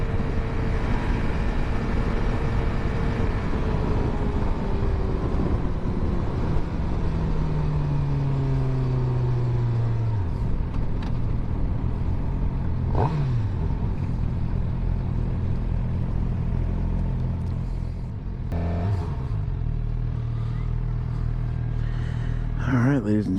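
A 2023 Suzuki GSX-R750 being ridden, its engine note steady and then falling as it slows, revving again later, with rushing wind noise and talk over parts of the ride.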